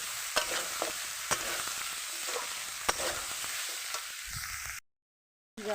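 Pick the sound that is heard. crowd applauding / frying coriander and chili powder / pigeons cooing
frying coriander and chili powder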